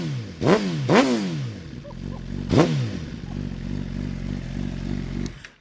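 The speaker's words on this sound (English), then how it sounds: "Let's go and hit him with a few revs real quick." Motorcycle engine idling with a steady low rumble, blipped into three sharp throttle revs that rise and fall quickly, close and loud, then settling back to idle.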